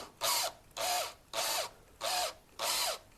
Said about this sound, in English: Drilling in a little at a time.